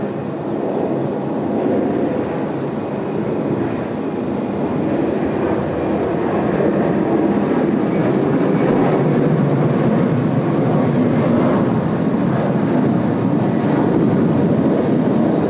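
An Emirates Airbus A380 departs Sydney Airport, a loud, steady, broadband jet roar sustained throughout with no breaks.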